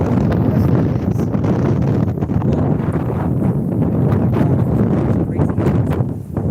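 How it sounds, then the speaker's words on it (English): Strong gusts batter the microphone outdoors on a sunny day in New York, a dense, continuous low rumble and buffeting that stays loud throughout. "This wind is crazy right now."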